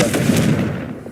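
Confringo fire blast spell in the video game Hogwarts Legacy, a short loud explosive burst with a booming rush that quickly fades.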